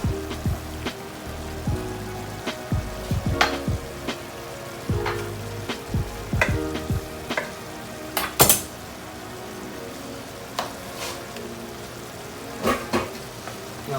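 A spoon stirs butter into a shrimp and grits sauce in a pot, with steady sizzling and repeated clinks and scrapes of metal against the pan, close up and with no talking.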